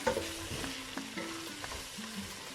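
Pasta toasting in a pan for a minced-meat and vegetable dish, with repeated light scraping stirs and clicks of a spoon over a quiet, close sizzle; no one speaks.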